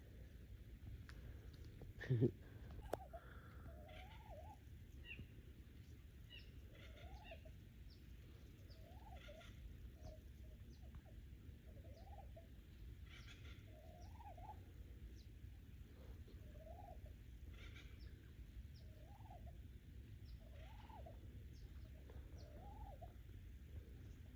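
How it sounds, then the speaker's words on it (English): Wild turkeys gobble repeatedly in the distance on a morning hike, a regular series of warbling calls over quiet outdoor background, with a sharp knock near the start. "These turkeys are huge."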